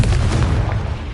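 Confringo blast spell detonating in Hogwarts Legacy, a loud sustained booming rumble with heavy low-end roar lasting the whole moment, no voices over it.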